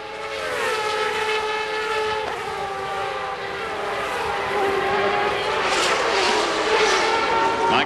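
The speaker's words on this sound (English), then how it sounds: "Here comes Michael Andretti with his teammate Christian Fittipaldi, the 2 black cars" IndyCar race cars at the 2000 CART Cleveland Grand Prix scream past in a loud, continuous engine roar with shifting pitch as cars close in and pass, under a commentator talking.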